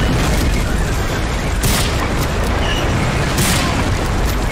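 A loud, dense explosion with heavy rumbling debris in the Medal of Honor war game, landing in a Normandy Allied-landing mission, with two sharper bursts standing out within a steady roar of battle noise.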